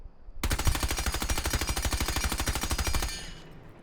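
Sustained full-auto burst from Sledge's rifle fitted with a compensator in Rainbow Six Siege, a rapid even string of loud close shots lasting about two and a half seconds, then a short echoing tail.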